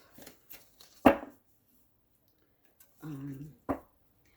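Oracle cards being shuffled, in brief papery riffles and taps between pauses, with a short voiced sound partway through.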